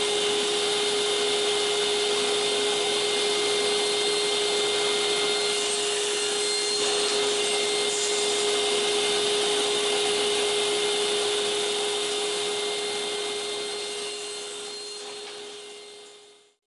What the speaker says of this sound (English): After cutting the 12 pieces of mahogany, I cut the 12 pieces of aspen.